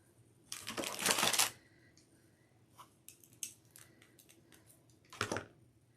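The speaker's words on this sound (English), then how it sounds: "You're also going to need some pipe cleaners, but we're not going to use the whole one. We're going to kind of cut them up." Scissors snip through pipe cleaners for an Easter wreath craft: a long burst of crisp cutting up close, then a few short, lighter snips and one more firm cut near the end, with no talking.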